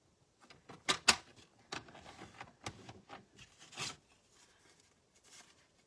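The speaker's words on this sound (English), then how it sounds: "I'm going to score this one at 1/2 inch" Cardstock is scored at a half-inch line with a craft scoring tool, giving a few soft scraping strokes and light taps, close and quiet, with no talk.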